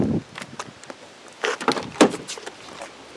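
The door of a wrecked Toyota golf cart with a peeled-open windshield and raised roof is worked open and shut, giving a string of close latch clicks, rattles and a couple of firmer thumps.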